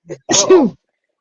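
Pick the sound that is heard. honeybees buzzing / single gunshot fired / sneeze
sneeze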